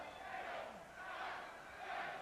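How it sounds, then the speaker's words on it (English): A professional wrestling arena crowd roars and cheers during a match, a faint, distant wash of voices that swells and dips in waves. "And the crowd roaring and cheering with each shot."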